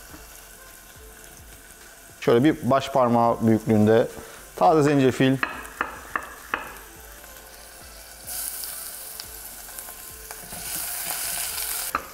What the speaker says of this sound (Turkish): Kısık ateşte hemen kavurmak için içerisine birazcık sıvı yağ koyuyorum